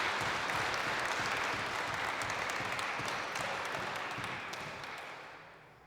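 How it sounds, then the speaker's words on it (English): A church congregation claps for a speaker coming forward, giving thick, even applause that gradually fades out over the last couple of seconds. "Could we give Mark a round of applause as he comes up?"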